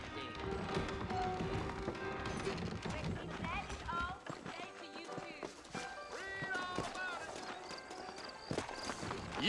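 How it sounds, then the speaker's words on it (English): Horse hooves clip-clop in the Western video game Red Dead Redemption, a steady rhythm of taps running throughout beneath voices and other game sounds. "I got the horses saddled up and ready out front."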